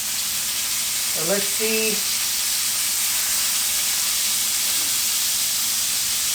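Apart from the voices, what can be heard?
thin meat cuts sizzling in a skillet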